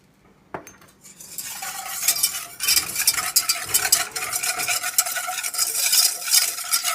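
Flour, sugar and a pinch of salt stirred together in a bowl for mini paczki dough, giving a continuous close scraping and swishing that starts after a sharp tap and carries on steadily with no talking.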